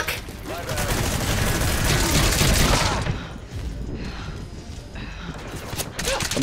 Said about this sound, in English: There's guns firing in every direction.